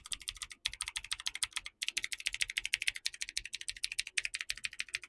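An INPHIC G61 mechanical keyboard is typed on quickly and continuously. Its crisp, clicky keystrokes come in a dense rhythm with two brief pauses, close up and quiet overall, with no speech.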